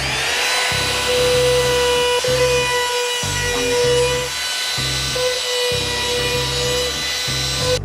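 A power tool rounds over the edges of small wooden parts, its motor whining steadily while each cut bites in with a loud rasping burst, repeated in a string of separate passes.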